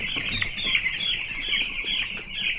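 Dense, continuous high chirping from a crowd of broiler chicks nearly two weeks old in a winter brooder, many overlapping peeps at close range with no talking.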